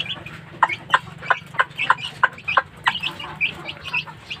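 Backyard chickens, a hen with her grown chicks, cluck in a close, busy run of short repeated calls, with a faint low hum underneath.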